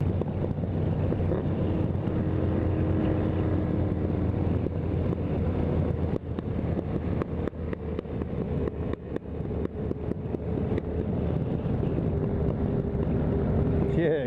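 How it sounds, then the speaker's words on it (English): A loud, steady motorcycle engine drones throughout while riding on the road, with heavy wind buffeting the microphone and a voice talking faintly underneath. "I love the sound of my bike, but yeah, it is loud, and unless you like loud motorbikes"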